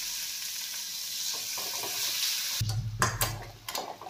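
Mashed sweet potato hits hot ghee in a pan, the quiet background hiss giving way to a louder, crackling sizzle with uneven bursts and a few stirring scrapes.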